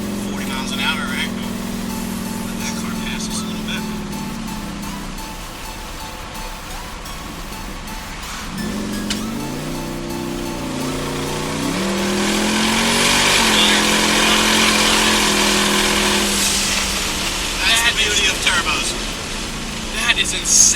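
A boosted truck engine accelerates loudly, with rising and shifting engine tones and a whooshing surge of boost, while people talk excitedly over the engine throughout.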